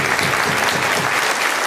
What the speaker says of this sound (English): I would give a little applause to you guys of actually supporting us